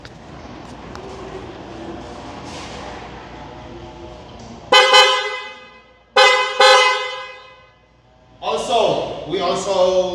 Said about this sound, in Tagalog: we replaced the horn with PIAA superior bass horn